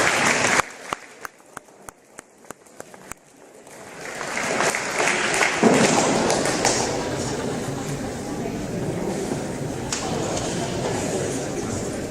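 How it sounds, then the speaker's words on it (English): Clapping at a basketball senior night presentation honouring a player named Damon: a few scattered, sharp single claps at first, then the audience joins in a full, sustained round of applause that fills the gym. "Big round of applause for Damon"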